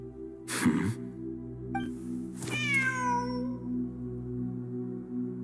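Cat meowing in a video game, a couple of clear drawn-out meows with falling pitch over a steady ambient drone.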